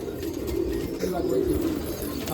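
Pigeons at a pigeon festival in Nashik coo in low, soft, rolling murmurs, steady and fairly close, with faint background noise throughout.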